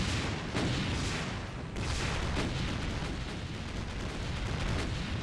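An enemy fires rapidly in Doom with the Brutal Mod, a fast, continuous barrage of heavy shots and booming impacts that stays loud and dense throughout, with no voices.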